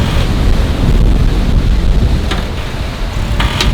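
Wind and short, square ocean waves at sea aboard a sailboat, a loud continuous rush of gusting wind over the microphone with splashing water and occasional slaps of waves against the hull.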